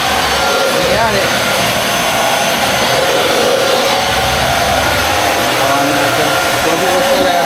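A vacuum cleaner runs close by with a loud, steady whine and roar that holds unbroken throughout.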